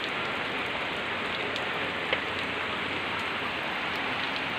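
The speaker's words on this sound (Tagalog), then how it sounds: "ayan umulan na naman ulit umulan na naman ulit" Rain falling steadily after Typhoon Ulysses, a dense continuous patter on surfaces with an occasional louder drop and no voices.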